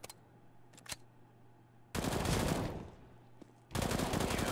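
Automatic gunfire sprays in a round of the online shooter game, giving two loud, sustained bursts of rapid fire after a few faint single shots, close and dominant, with no talk.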